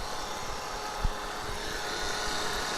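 A car engine running at idle, a low steady hum that stays faint beneath a broad hiss of road or wind noise, with one brief low thump partway through and no one talking.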